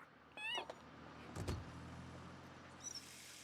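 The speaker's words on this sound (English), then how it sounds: "Is there a cat?" A video game cat gives a couple of short, high meows, faint against a quiet background hum, with a soft thump between them.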